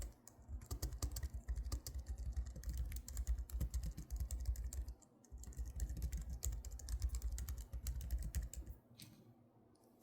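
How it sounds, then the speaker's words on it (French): Fingers type quickly on a Logitech MX Keys keyboard, giving soft, close, rapid clicking keystrokes in two bursts separated by a short pause, then trailing off. "on a la barre d'espace qui fait un peu de bruit, mais les touches, si on veut être discret vraiment, si j'appuie que sur les touches,"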